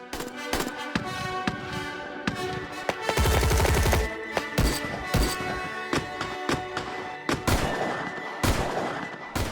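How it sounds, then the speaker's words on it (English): Heavy gunfire on an American shooting range where AK-47s are fired, with rapid bursts and overlapping single shots cracking close and loud, a sustained rattling burst in the middle, and dense reports throughout. "there is a hail of bullets, discarded shells, and gunfire on the range"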